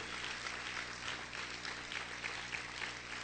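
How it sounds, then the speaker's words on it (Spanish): A church congregation applauds at a deliverance service, producing a dense, continuous wash of clapping from many hands that stays steady and even throughout, distant-sounding and fairly quiet. "Vamos a aplaudir fuerte al Señor."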